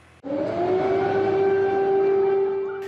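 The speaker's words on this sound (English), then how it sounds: "as air raid sirens once again blared in the capital, Kyiv" An air raid siren in Kyiv, Ukraine starts abruptly and holds a loud, steady wailing tone, rising slightly in pitch before easing at the end.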